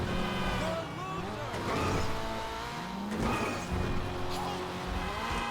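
A car engine in Grand Theft Auto 5 revs and rises in pitch, shifting through gears with a whining tone, fairly close and steady throughout.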